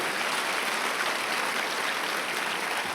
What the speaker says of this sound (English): Clap for my friend.